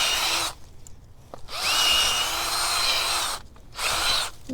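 A power drill bores into backyard soil while planting ground cover, running loud and close in three bursts separated by short pauses, with a gritty grinding texture.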